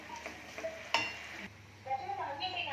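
Spice masala fries in hot oil with crackled cumin seeds. A soft steady sizzle runs under stirring scrapes, one sharp clink of a utensil against the pan, then the frying settles into a fuller hiss.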